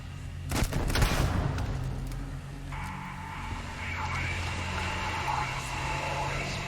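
Turrets open fire in the video game Starfield, a dense burst of loud gunfire up front that gives way to a steady mechanical drone and hum beneath it.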